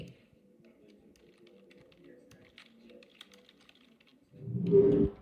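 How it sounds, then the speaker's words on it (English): Faint computer keyboard typing ticks away as office ambience behind an AI phone voice agent, soft scattered clicks before a louder burst of sound near the end. "You hear people like typing in the back."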